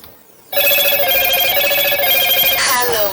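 A phone ringtone rings loudly and continuously from about half a second in, a steady repeating electronic tune that carries on to the end.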